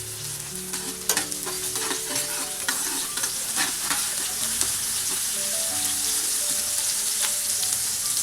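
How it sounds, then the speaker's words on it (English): Cumin seeds and chopped green chili sizzle and crackle in hot oil in a pan while being stirred, a steady frying hiss with scattered pops and scraping, close and without talk. "So let the jeera splatter."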